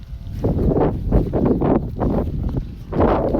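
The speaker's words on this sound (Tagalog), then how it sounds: "lumakas yung hangin." Strong gusts buffet the microphone in rough, rumbling bursts that rise and fall irregularly, loud and close with no talking, outdoors while flying a large kite.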